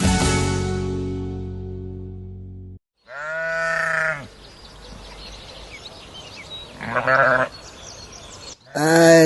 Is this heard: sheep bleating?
yes